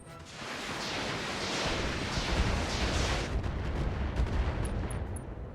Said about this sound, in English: Firing thermobarics on that Centurion, I really don't care.